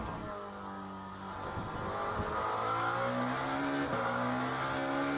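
A brand-new Lamborghini race car in the Le Mans Ultimate racing game, its engine droning and revving steadily with shifting pitch and brief tire noise, continuous and fairly close.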